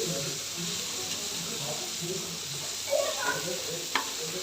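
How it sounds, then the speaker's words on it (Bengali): Boiled potatoes and yardlong beans fry in oil in a frying pan with a continuous close sizzle, broken by stirring scrapes and a couple of sharp utensil knocks near the end. "ফ্রাই প্যানে আমি ভেজে নিচ্ছি।"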